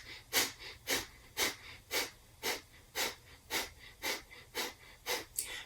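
Breath of fire in Kundalini yoga: rapid rhythmic nasal exhalations, about eleven sharp, even pulses in quick succession, close and fairly soft.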